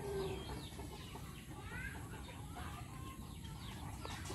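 Chickens, including a young pullet, cluck softly at a distance against a steady background hiss, with a few faint calls scattered through the short stretch.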